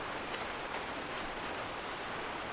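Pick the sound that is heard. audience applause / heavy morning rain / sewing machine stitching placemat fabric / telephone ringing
heavy morning rain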